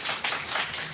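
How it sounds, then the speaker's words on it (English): Applause at a township business meeting: a brief burst of hand clapping from an indoor audience, fairly close and steady, with no voices. "Please hold your applause to the end."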